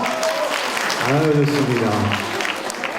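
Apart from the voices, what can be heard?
audience applause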